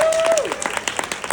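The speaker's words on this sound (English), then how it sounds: "give them a clap" A film Q&A audience claps briefly after a remark, a short burst of applause with a steady tone and a falling whistle-like sound at the start.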